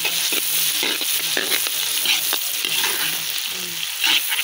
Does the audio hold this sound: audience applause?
no